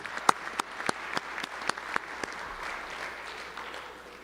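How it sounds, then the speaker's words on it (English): A small audience applauds football players at a high school football ceremony, starting with a few sharp, distinct claps and building into a steadier, moderate patter of hands. "Let's give them a round of applause."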